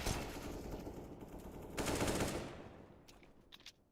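AK rifle gunfire in an esports match: dense bursts of automatic fire up close, a second loud volley midway, then the shots fade toward quieter distant pops.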